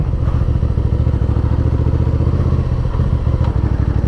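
Motorcycle rides down a rough, steep dirt track toward a hilltop temple in Lamphun, its engine droning steadily and loudly the whole time, with rattles and thumps from the bumpy surface.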